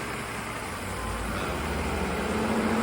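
Cooling fans whir steadily alongside a running 2000 Mercedes SL600 V12 (R129) engine, a broad constant rush with a low hum underneath and no talking.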